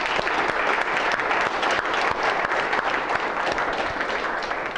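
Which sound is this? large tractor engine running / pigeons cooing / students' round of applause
students' round of applause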